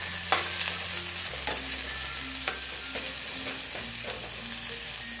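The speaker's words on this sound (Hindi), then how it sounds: "इसको अच्छे तरीके से फ्राई कर लीजिए दोस्तों।" Chicken curry fries and sizzles steadily in a pan, broken by several sharp clinks and scrapes of stirring.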